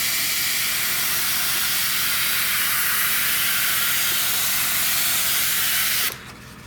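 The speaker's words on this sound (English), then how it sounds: "You can hear my compressor just running there." A Fengda FE-186K airbrush compressor runs close by with a steady hiss and a low pulsing chug, then drops to a quieter hum near the end.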